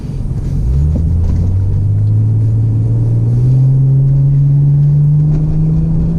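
Cabin sound from inside a Toyota Supra on the move, a loud, steady low engine drone whose pitch climbs smoothly as the car accelerates, with road rumble beneath and no talking.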